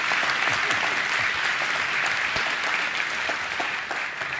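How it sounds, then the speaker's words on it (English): A conference audience in London applauds a speaker after his talk, steady, even clapping throughout, moderately loud and filling the room without pause. "give the guy some applause"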